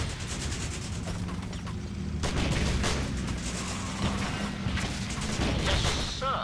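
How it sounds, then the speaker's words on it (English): Gunfire in the WWII strategy game Blitzkrieg 3, rapid crackling shots and mechanical clatter over a rumbling battle bed, with a voice speaking briefly under the noise. "Our troops are under fire."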